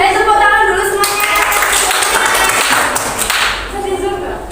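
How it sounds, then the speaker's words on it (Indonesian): A seminar audience on pharmacy medication handling claps together on cue, loud and close, with scattered thumps and taps mixed in and some talking over the clapping before it tapers off. "Tepuk tangan dulu semuanya."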